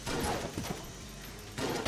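Shotgun blasts from the video game Enter the Gungeon, a dense burst of rapid, overlapping booming shots with scattered impacts, loud and close over busy game noise.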